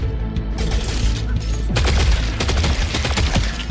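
Burst-fire weapon gunfire in a video game crackles in rapid repeated volleys, loud and dense, with explosive booms mixed into continuous combat noise.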